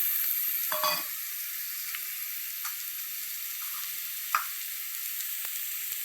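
Boiled bitter gourd pieces frying with onions in a pan give a steady, fairly quiet sizzle, with a few soft stirring scrapes and one sharper clink partway through.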